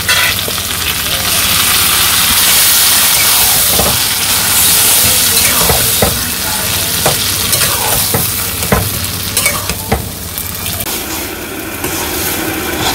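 Boiled taro greens fry with a hilsa fish head in a pan, village style, giving a loud continuous sizzle and hiss, broken by repeated scraping and clinking as the spoon stirs.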